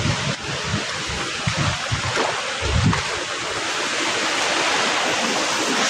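Water rushes under pressure through a farm stream in a village field. It makes a steady, broad, close roar with a few low splashing surges, and no one speaks.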